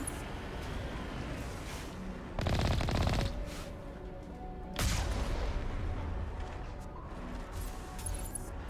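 Geth rocket troopers in the video game Mass Effect fire rockets, heard as two loud whooshing blasts over a faint rumbling battle background.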